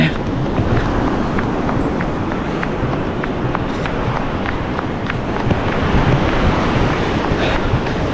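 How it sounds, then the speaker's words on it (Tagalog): Strong ocean surf roars continuously under gusting wind that buffets the microphone, a loud close wash of breaking waves at the shore with faint voices in the background. "Malakas pa yung alon."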